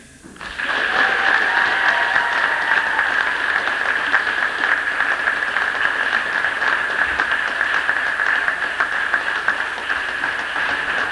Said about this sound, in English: we'll give a big rousing cheer to the Clondrohid Under-12 team of 1986, mid-court champions